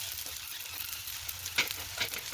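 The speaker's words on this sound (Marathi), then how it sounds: "छान मिरची भाजते. मिरची छान भाजते" Green chilies roast and sizzle in a pan with garlic added, a low steady crackle with a few sharper pops and stirring scrapes, close and alone.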